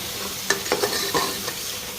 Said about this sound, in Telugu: ఒకసారి బాగా కలుపుకోవాలి.